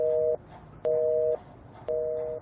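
A phone line gives its disconnect tone after the other side hangs up: three evenly spaced, clean electronic beeps, each about half a second long, separated by short silences.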